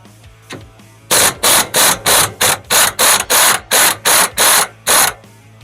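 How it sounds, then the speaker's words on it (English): A 15 mm bottom shock bolt is being removed from a Polaris Ranger 1000 with a power tool, heard as about a dozen loud, rapid bursts of rattling, whirring ratcheting in quick succession, close by. "we're gonna pull this bottom shock bolt out. I'm gonna go ahead and do that now. It's a 15 millimeter."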